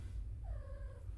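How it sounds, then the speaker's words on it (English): A house cat gives a single soft meow, rising then falling and fairly faint, over a steady low background hum. "Yes, I know, you're a terrible cat."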